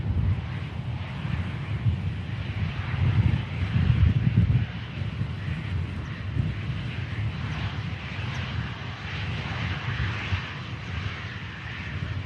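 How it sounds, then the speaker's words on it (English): Blustery wind at Manchester Airport buffets the microphone in a steady, loud low roar with gusty swells, while aircraft engine rumble blends in throughout. "Very blustery."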